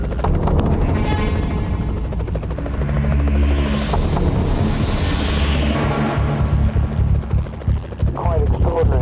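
A helicopter thuds loudly overhead with rhythmic rotor chop and engine whine, and a voice talks over it.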